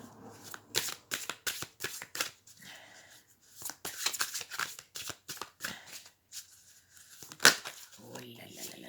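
Tarot cards shuffled for a sentimental card reading, a long run of crisp riffling bursts and soft slides, close and fairly loud, with a sharp snap near the end and murmured speech in the background.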